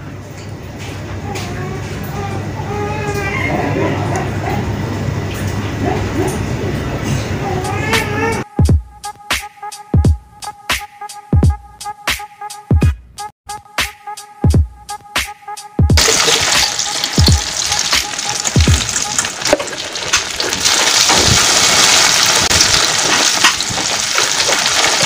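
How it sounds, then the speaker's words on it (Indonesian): Egg-coated sempol skewers made from tapioca flour frying in hot oil, a steady loud sizzle and crackle that breaks into rhythmic clattering bursts midway before the dense sizzling returns. "langsung saja kita goreng sempolnya"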